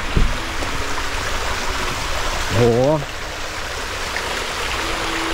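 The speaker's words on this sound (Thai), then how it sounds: "น้ำไหลผ่านสวยงามมาก" A stream runs through a large flower garden, giving a steady, close rush of flowing water throughout; a man's brief exclamation rises over it midway.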